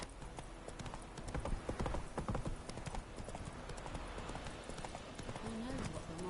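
Horse hooves clip-clop at a steady gallop in The Witcher 3, with dense rhythmic thuds running the whole time and a brief whinny near the end, under a voice speaking.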